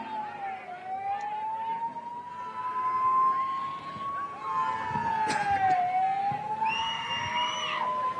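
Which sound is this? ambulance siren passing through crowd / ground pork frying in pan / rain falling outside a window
ambulance siren passing through crowd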